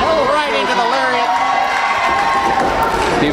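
Wrestling crowd at a UWC independent show cheering and shouting steadily, a loud sustained roar with whoops and excited voices throughout.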